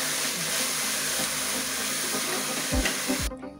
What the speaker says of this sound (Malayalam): നമുക്ക് നന്നായി ഇളക്കാം.